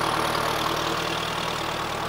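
A Massey Ferguson MF4708 85 hp tractor engine runs at a steady, loud idle-like chug, close and continuous with no talk.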